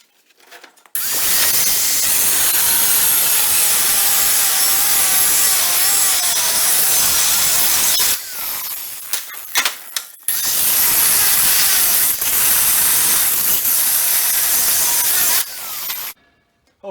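A power tool cuts off metal tabs on a storm-damaged trailer in two long, loud, continuous grinding passes, separated by a short pause with scattered clanks.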